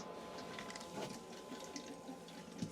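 Water runs through the taps of a camper as the system fills, a faint steady hiss and trickle with a low mechanical hum, close by and without talk.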